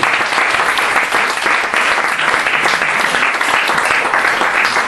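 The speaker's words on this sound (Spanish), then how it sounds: "Denle un aplauso" A church congregation's loud, dense applause rolls on continuously and evenly, with no break in the clapping.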